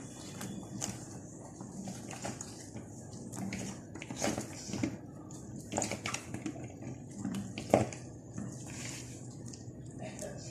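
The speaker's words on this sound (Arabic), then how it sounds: "هبتدي ان انا انزل فيها بالبتنجان زي ما قلت لكم." Eggplants for a red eggplant pickle being lowered into a pot of boiling water, heard as intermittent splashes, sloshing and knocks against the pot over a constant bubbling background.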